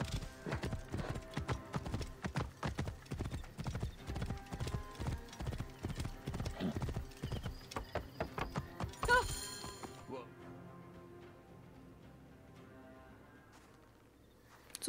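A horse gallops in the video game Assassin's Creed Origins, steady rapid hoofbeats clopping for about nine seconds, then a sharp whinny-like burst and the hooves stop, leaving a quiet low ambient hum.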